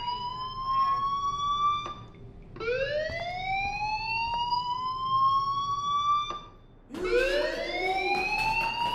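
A fire alarm blares in the video game Life Is Strange, a loud electronic siren of rising, sweeping tones that repeats in three long whoops, each starting low and climbing, with brief dips between cycles and no talking.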